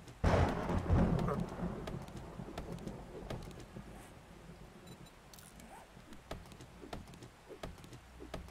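Thunderstorm in the survival game 7 Days to Die: a loud thunder crash opens, then a long rumbling roll fades under steady rain, with scattered crackles and drops continuing to the end.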